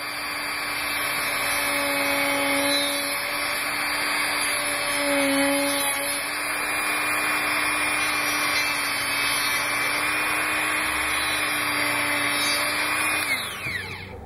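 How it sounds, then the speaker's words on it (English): A Dremel rotary tool cuts through thick plastic with a steady, loud high-pitched whine and grinding rasp, held nearly continuously, then spins down abruptly near the end. "Let's Dremel."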